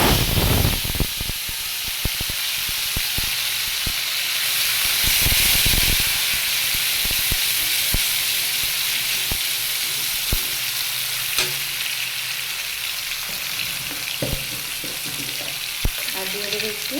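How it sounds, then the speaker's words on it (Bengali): Sesame paste going into a hot pan while cooking ridge gourd, steady frying sizzle and hiss with scattered stirring clicks and taps, close and moderately loud throughout, no voices. "এবারে আমি এই তিল বাটাটা এখানে দিয়ে দেব।"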